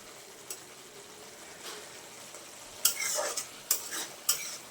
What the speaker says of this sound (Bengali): এবার ভালোভাবে নাড়াচাড়া করে নিচ্ছি